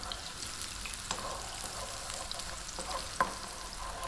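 Onion and roughly chopped garlic fry in a pan over lively heat, giving a steady broadband sizzle with a few sharp clicks of stirring, loudest near the three-second mark.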